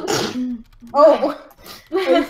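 Several short, sharp sneezes break out in quick succession, close and loud, with a brief spoken exclamation among them.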